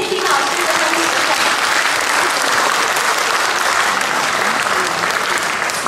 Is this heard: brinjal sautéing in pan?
no